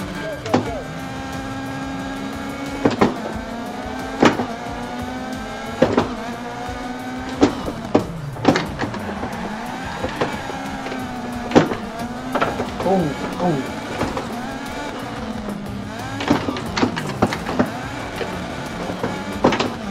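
Rally car engine in Dirt Rally 2.0, pulling away in second gear and revving hard through the stage with repeated sharp gear-change bursts, loud and steady, with a voice talking over it.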